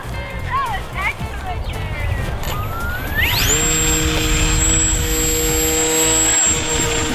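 A foam board remote controlled airplane, thrown into the wind on a 3S battery, whines up to a steady high-pitched motor and propeller drone that holds loud and close, with people talking over it.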